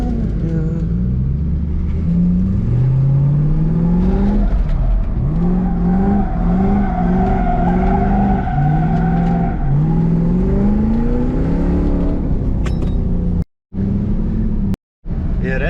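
A Lexus engine revs and whines in rising and falling sweeps as the car slides around, with faint tire squeal in places, loud and close from inside the car.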